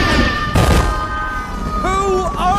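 Cartoon corn kernels bursting like fireworks, a dense crackling volley of loud pops and booms in the middle, then whistling, swooping tones as the bursts give way to a shower of popcorn.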